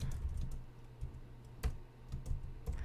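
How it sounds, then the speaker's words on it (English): Steady typing on a computer keyboard, close and fairly quiet, with irregular soft key taps and a few louder strokes over a low room hum. "I got to type, and you get to watch me type"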